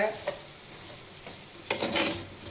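Bitter gourd tossed with salt in a pan for an Andhra-style fry, giving quiet intermittent stirring scrapes over a faint background, then a louder burst of scraping and sizzle near the end.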